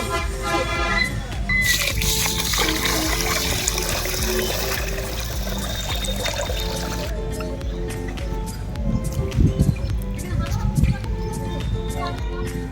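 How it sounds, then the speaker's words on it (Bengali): Rice being washed by hand in a pot of water, with continuous close sloshing, swishing and trickling that sounds fuller toward the end. "চাল ভালো করে ধুয়ে নেব।"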